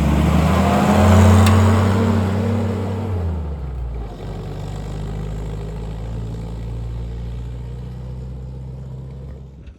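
A flat fender Jeep with an L134 engine pulls in second gear, its low engine drone rising loudly at first and then easing into a steady, nearer cruising hum with gear whine, and no one speaks.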